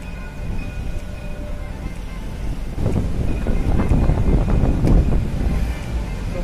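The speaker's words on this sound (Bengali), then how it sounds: "চমৎকার একটি মেট্রো যাচ্ছে টাওয়ারের মাঝখান দিয়ে, ভেরি বিউটিফুল।" A metro train rumbles past through the middle of a tower in Dubai, a rising rolling roar with rhythmic clacks, heard over wind buffeting the microphone and distant background noise.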